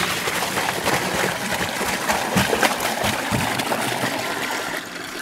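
Water pours steadily into a bucket fitted with keg posts, a continuous close rushing and splashing with no pauses.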